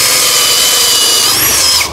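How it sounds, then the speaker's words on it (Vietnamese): A cordless screwdriver set to drill mode bores into wood, giving a loud, continuous high-pitched whine and grind that tails off at the very end. "Mình sẽ để sang chế độ khoan cho anh em."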